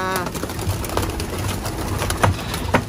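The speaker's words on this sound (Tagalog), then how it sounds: "So, ito, mga kalapatids. All young birds." Young pigeons coo and shuffle inside a loft, with soft overlapping calls and light rustling sounding close and fairly loud throughout.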